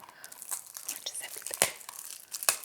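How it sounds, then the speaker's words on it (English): Cellophane wrapping on a skincare product box crinkles and tears close up in a quick series of sharp, crackly rustles with a few louder snaps. "I refuse to open up this cellophane without you watching."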